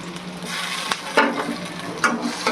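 Onions sizzle in hot ghee with a steady, close frying hiss broken by a few sharp crackles and pops, with no one speaking.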